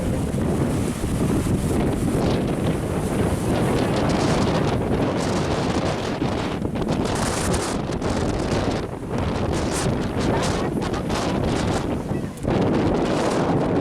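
Strong, steady wind roars and buffets against the microphone on a steep road in Dingalan, Aurora, loud and continuous, with no voices.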